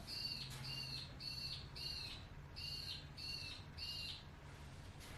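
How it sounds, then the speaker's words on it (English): A songbird sings close by during sourdough shaping in a kitchen, repeating six or seven bright two-part phrases in a steady rhythm over a low background hum. "The bird wanted to sing."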